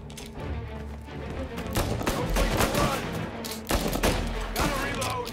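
Bursts of gunfire ring out in the Mafia: Definitive Edition video game, with rapid volleys and single loud shots clustered together amid a busy firefight, plus brief shouted voices.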